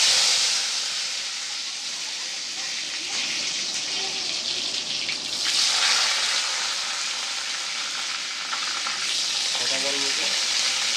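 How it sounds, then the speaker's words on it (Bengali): Potatoes frying in hot oil in a home kitchen, a steady loud sizzle and hiss that runs through the whole stretch, with occasional soft clinks and some voices in the background. "তেলটা গরম হোক, দিয়ে আলুটা ভেজে নেবো।"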